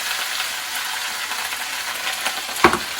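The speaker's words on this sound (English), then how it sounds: "Here's the sizzle. Here's the pop." Weenies and potatoes sizzle and crackle steadily in a hot pan on the stove, a constant close frying hiss with a sharper pop or two near the end, no voices.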